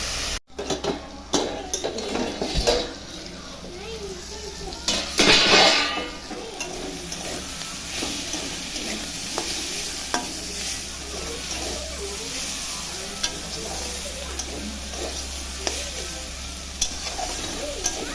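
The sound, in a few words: potato and bitter gourd frying and being stirred in a pan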